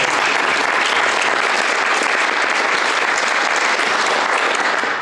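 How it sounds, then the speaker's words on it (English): Steady, dense applause from an audience at a language technology prize ceremony, loud and continuous for the whole stretch with no talk over it. "I think a round of applause"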